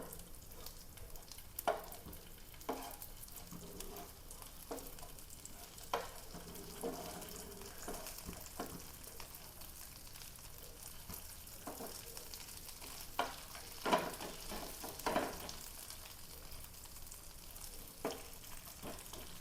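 Quiet, steady frying sizzle of tapioca in a pan with occasional stirring scrapes and soft clicks, no talking.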